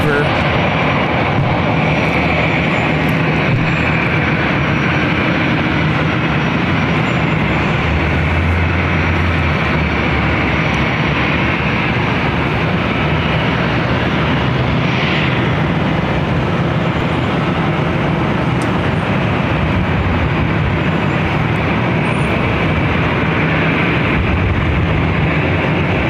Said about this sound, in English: another Delta A320, flight 1049, will be taking off to Denver